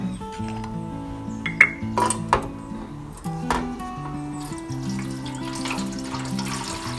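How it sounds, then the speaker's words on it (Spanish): Water runs steadily into a container to set up a bain-marie for Swiss meringue, with light clinks, all under continuous background music. "Yo voy a usar este envase. Vamos a colocarle agua."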